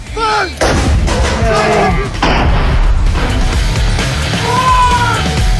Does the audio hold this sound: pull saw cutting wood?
no